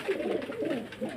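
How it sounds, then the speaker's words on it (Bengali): A pair of pigeons, a powder-coloured hen and a red male, coo in soft overlapping low rumbles, close and steady throughout with no talking. "একজোড়া পায়রা দেখতে পাচ্ছেন"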